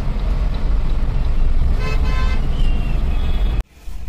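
Busy traffic on Karjat road, with a constant close engine rumble and a short tooting car horn partway through, before the noise cuts off abruptly near the end.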